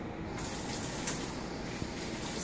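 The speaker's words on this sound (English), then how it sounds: "So you want to run it under warm water." Warm water runs steadily from a kitchen tap to soak a cleaning cloth, a continuous broadband rush with no talk over it.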